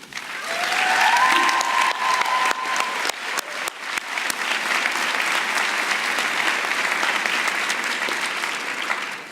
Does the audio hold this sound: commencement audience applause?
yes